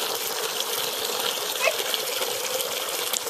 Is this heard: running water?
yes